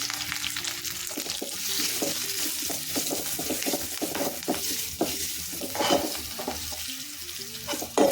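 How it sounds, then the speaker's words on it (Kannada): Spices with curry leaves and asafoetida sizzle in hot oil for a tempering, a steady crackling hiss with scattered pops and occasional scrapes of a spoon against the pan. "ಒಗ್ಗರಣೆ ಹಾಕಾಯಿತು"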